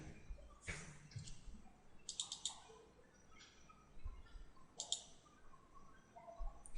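Faint, sharp computer mouse clicks arrive in quick pairs as double clicks, scattered among soft ticks in a quiet room.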